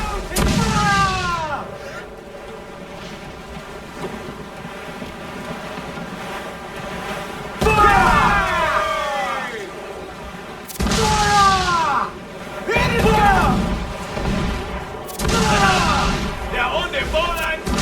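Heavy ship cannons firing in Assassin's Creed IV Black Flag during a naval battle, several booming broadside volleys at intervals over wind, sea and creaking hull, with shouted crew orders in between.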